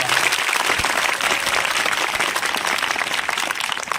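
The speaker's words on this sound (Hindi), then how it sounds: "एक बार जोरदार तालियां वहाँ से सुनना चाहिए" Dense, sustained applause from a large audience at a college event, steady and loud throughout with no gaps.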